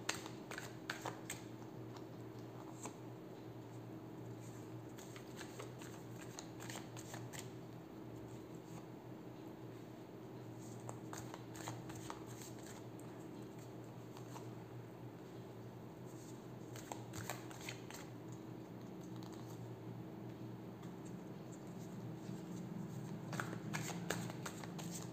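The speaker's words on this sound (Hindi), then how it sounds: "हम लोग फिर टैरो और एंजल ऑरिकल डेक से गाइडेंस कार्ड्स निकालेंगे" Tarot and angel oracle cards being shuffled by hand, a continuous soft riffling and flicking that runs nearly throughout at a low, close level, with a few denser bursts near the middle and toward the end.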